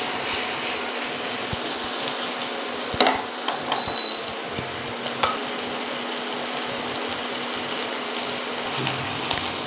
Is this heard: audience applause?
no